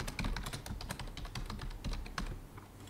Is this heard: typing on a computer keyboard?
yes